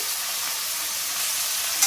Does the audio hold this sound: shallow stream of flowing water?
no